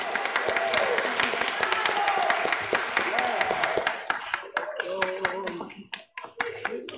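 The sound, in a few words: church congregation applause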